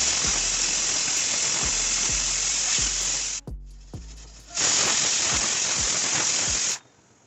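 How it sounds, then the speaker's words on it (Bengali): A kitchen pressure cooker whistle vents steam in two loud, hissing bursts, each a few seconds long, split by a brief pause and ending abruptly. "দুটো সিটি হয়ে গেলে নর্মাল হওয়া পর্যন্ত অপেক্ষা করছি।"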